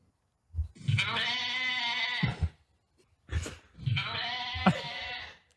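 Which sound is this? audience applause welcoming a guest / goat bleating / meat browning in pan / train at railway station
goat bleating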